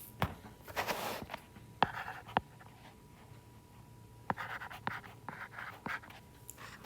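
Pen or pencil writing down a numeric answer on paper, close scratchy strokes with sharp taps and short bursts of scribbling, irregular and fairly quiet.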